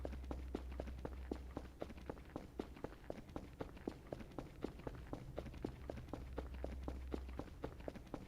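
Rapid running footsteps in the horror game Voices of the Void, a steady quick rhythm of close, crisp steps over a continuous low background hum, with no talking.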